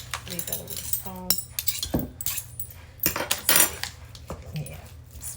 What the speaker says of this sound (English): Right, banana, mash it up.